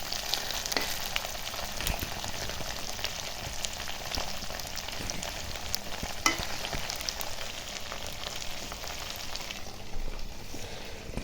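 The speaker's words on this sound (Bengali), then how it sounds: "তো এখন সব ভালো করে ভেজে নেব আলুর সাথে" Chicken frying in oil with potatoes and garlic-ginger paste: a constant crackling sizzle with occasional sharp pops and stirring scrapes, close and fairly quiet, with no talk.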